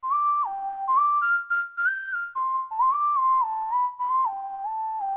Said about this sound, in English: You can see how it sounds like a realistic whistle.